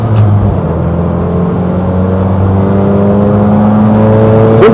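A 75 hp VW Iltis off-road rally vehicle pulls hard, its engine droning loudly and close as the pitch climbs steadily under acceleration.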